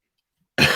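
A single close, sharp cough erupts after a moment of near silence and is cut off at the end.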